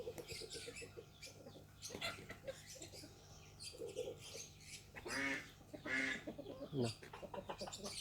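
Native country chickens kept for sale near Nenmara, Palakkad, several birds clucking and squawking close by in irregular bursts, with soft background noise.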